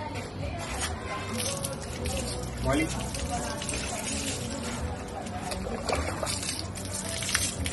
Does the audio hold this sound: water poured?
yes